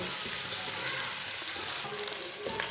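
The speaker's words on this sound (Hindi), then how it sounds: "प्याज को हल्का सा ब्राउन कर लेंगे।" Finely chopped onion frying in a cup of oil in a pan, a steady close sizzle with light stirring scrapes throughout, no voices.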